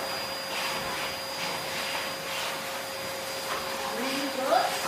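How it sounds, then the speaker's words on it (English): A vacuum cleaner hoovering on a liner, a steady whining drone with rhythmic swishing strokes, fairly close, with a soft rising squeak near the end. "Start hoovering on the liner."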